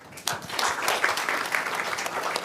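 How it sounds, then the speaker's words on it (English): Audience applause at an International Women's Day event, a steady wash of many hands clapping from fairly close, starting abruptly and holding an even level throughout without any voices. "So a huge round of applause."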